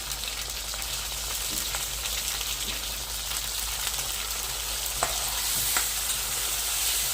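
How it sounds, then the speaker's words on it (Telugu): Tomatoes fry in a pan for a bitter gourd curry, making a continuous, close, dense sizzle with a rain-like crackle and occasional stirring taps. "టమాటాలు వేసుకున్నాము. ఇవి కానీ మంచిగా వేగాలన్నమాట."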